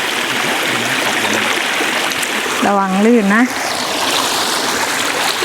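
A strong-flowing forest stream or waterfall rushes steadily and loudly throughout at a campsite in Saraburi, Thailand, while a person speaks briefly over the water.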